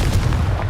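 A Confringo fire blast spell is cast in Hogwarts Legacy, a dense, rumbling burst with heavy low-end booms and crackling texture sustained throughout, loud and close with no talking.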